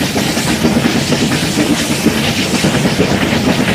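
Nilgiri mountain railway engine working hard to push a train uphill on the Mettupalayam to Ooty line, giving a loud, steady, rhythmic clatter and rumble close by, with no talking.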